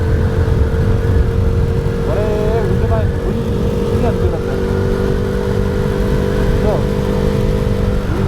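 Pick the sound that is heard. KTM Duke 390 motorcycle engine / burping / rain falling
KTM Duke 390 motorcycle engine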